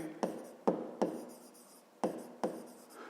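A pen writing out a school math solution on paper, a few short scratchy strokes with pauses between them, close and quiet with no talk.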